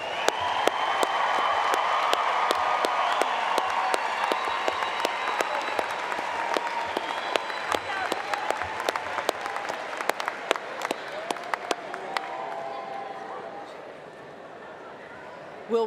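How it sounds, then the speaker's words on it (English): Graduates at a Colorado State University College of Liberal Arts spring commencement receive sustained applause from a large audience, dense and even throughout before tapering off near the end, with faint voices beneath. "Join me in a round of applause for the graduates."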